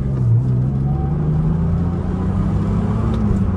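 A BMW Z3 accelerates with a loud, continuous engine drone heard up close, its pitch climbing steadily as the revs build, with no talking.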